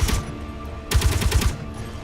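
Ship-mounted weapons fire in Space Engineers, two quick bursts of rapid, loud repeating shots with a short gap between them.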